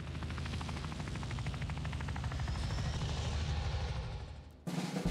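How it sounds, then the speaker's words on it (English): A large helicopter in the strategy video game Phoenix Point gives off a steady, loud rotor thump and engine drone that swells and then fades, cut off near the end by a different game sound. "Look at that thing! That is a beastly helicopter!"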